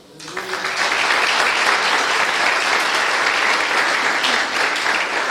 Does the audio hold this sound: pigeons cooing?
no